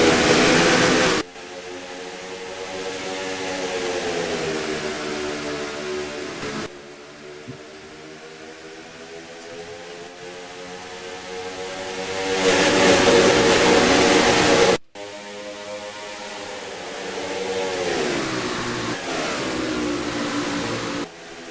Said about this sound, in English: We're gonna go a little silent here for you folks to enjoy the sounds of these engines.